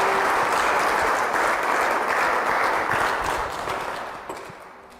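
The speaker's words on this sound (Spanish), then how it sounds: "Demos un aplauso al Señor y demos las gracias al Señor." A church congregation applauds during a Spanish-language service, dense sustained clapping that holds strong before slowly tapering off near the end.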